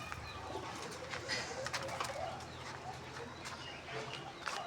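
Pigeons coo softly in a loft, with repeated low throaty calls and faint rustling and chirps scattered through a quiet background.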